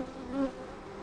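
Honeybees buzz steadily during an Easter hive inspection, a close, dense hum of many insects with a brief louder swell as the colony is handled.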